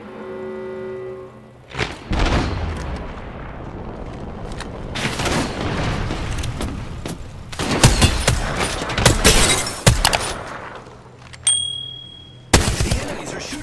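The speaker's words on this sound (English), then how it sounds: "The enemies are shooting at me." Heavy bursts of gunfire and explosive booms in an Apex Legends 2 vs 3 arena match, loud rapid volleys arriving in clusters with sharp impacts and short gaps, plus occasional in-game voice chatter.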